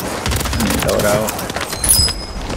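Call of Duty: Warzone gunfire on Rebirth Island rattles in a steady stream of rapid, close shots, loud and continuous, mixed with game effects and a sharper burst near the end.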